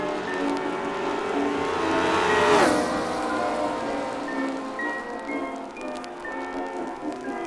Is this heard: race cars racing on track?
yes